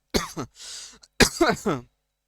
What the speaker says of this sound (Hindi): थोड़ा सा खांसी हो रहा है